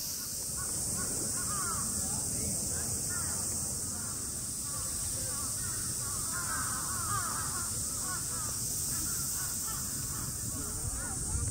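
Crows caw in Japan, harsh calls repeating at a distance over a steady wash of high insect buzz and background noise, while a voice talks over the scene.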